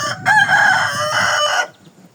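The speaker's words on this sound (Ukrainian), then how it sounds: "Півник хорошенький, який гарний." A rooster crows once, loud and close, a long strained call that cuts off sharply.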